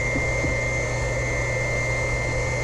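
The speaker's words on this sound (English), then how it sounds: "Hear that volume of that pump change." A circulation pump drives cold glycol through a heated driveway snowmelt system, giving off a steady, close motor hum and whir with constant loudness and no pauses.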